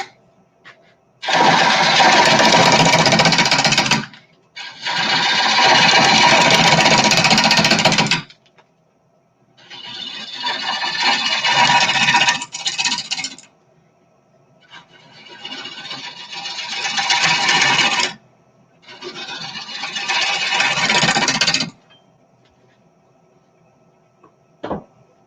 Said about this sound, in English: Switch back to my bowl gouge and waste away all this extra material.